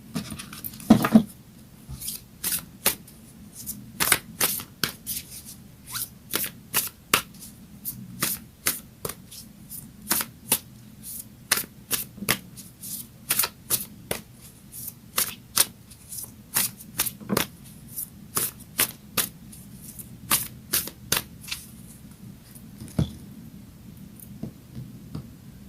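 Moonology oracle cards are shuffled by hand in a long run of sharp papery riffles and slaps, irregular and close, with no voices over them.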